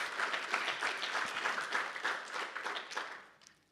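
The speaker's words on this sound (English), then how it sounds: "So a round of applause to you guys." Applause from an audience at a rugby team's season launch, a dense steady patter of many hands clapping close by, fading out toward the end.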